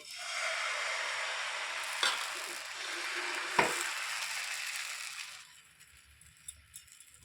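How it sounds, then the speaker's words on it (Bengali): Pitha batter sizzles in a non-stick pan, a steady close hiss with one or two light taps of a ladle, fading to near quiet at the end. "এবারে এই বাটি হাতার এক হাতা আমি এখানে ব্যাটার তুলে প্যানের মধ্যে দিয়ে দেবো"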